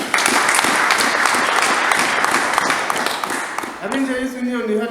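A church congregation breaks into loud, sustained applause filling the hall, dense clapping for about four seconds before it fades and a voice begins speaking over the last of it.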